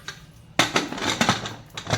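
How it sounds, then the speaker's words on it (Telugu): A metal lid set onto a pressure cooker in a home kitchen, a sharp clank followed by a few lighter metallic knocks and scrapes as it is fitted, close and fairly loud. "ఇలా మూత పెట్టేసుకుందాం."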